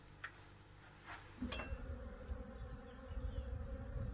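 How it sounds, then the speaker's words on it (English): A few faint taps, then a steady, close honey bee buzz sets in outdoors and continues, growing slightly louder toward the end. "pop it outside and give the bees another feast"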